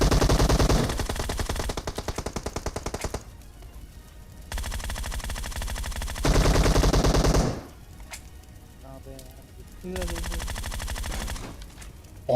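Bursts of rapid automatic gunfire in a battle royale video game, several loud volleys separated by brief quieter gaps, close and dense.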